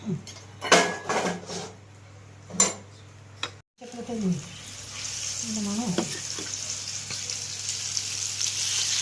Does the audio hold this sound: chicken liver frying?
yes